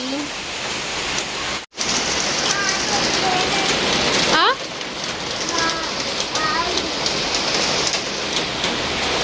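Steady rain falls outside a home gallery, a loud continuous patter heard up close, with a brief dropout and birds chirping faintly through the downpour.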